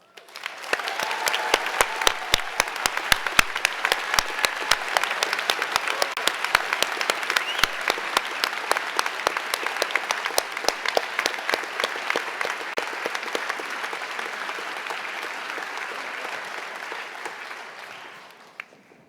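Sustained audience applause fills a hall at a university dental school commencement ceremony, with crisp individual claps standing out within a dense, even roar that slowly thins and fades over nearly twenty seconds.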